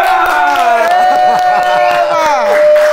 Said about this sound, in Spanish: ustedes en su casa aplaudan a Felipe